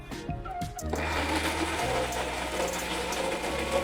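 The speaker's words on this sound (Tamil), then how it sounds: "தக்காளி அரைக்க போறோம்ப்பா பச்சையா" A kitchen mixer grinder starts up and settles into a steady, droning whir as it purées raw tomatoes for a Vaigai Dam style fish curry, staying constant and fairly close for several seconds.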